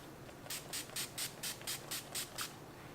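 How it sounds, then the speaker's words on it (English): Eight quick bursts of NYX Dewy Finish Setting Spray from a pump bottle, evenly spaced and close, each a short airy hiss in an otherwise quiet room. "I'm going to take my NYX Dewy Finish Setting Spray"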